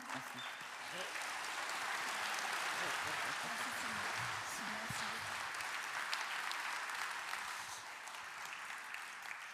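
Sustained applause from an audience at the opening ceremony of the Festival Regards Croisés 2025, a dense steady wash of clapping that stays loud and even for the whole stretch.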